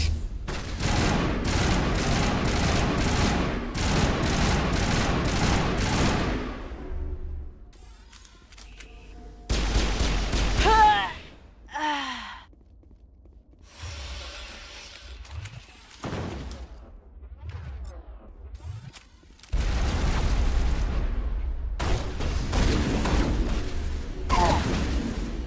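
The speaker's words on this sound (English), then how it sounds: "Suppressing fire!" Gunfire in the video game Mass Effect: long rapid volleys of automatic shots in loud bursts, separated by quieter stretches with shouted voices and combat effects.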